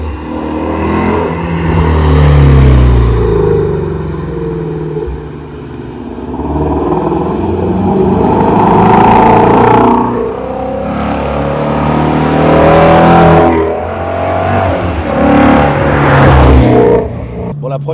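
A Ford Shelby GT350 with exhaust valves open revs loudly and close by in repeated surging bursts, its V8 roar rising and falling.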